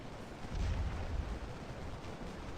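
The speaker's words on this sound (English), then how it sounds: "Here comes our artillery." Artillery in the Civil War strategy game Scourge of War: Chancellorsville fires as rolling, distant booms. The low rumble swells and lingers over a constant battlefield din, with no clear separate shots.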